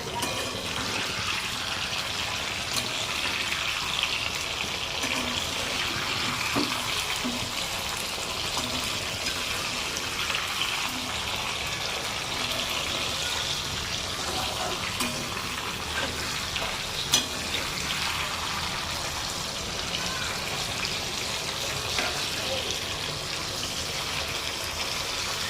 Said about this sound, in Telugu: ఇవి బాగా ఫ్రై అయ్యేంత వరకు ఆయిల్లో వేయించుకోవాలి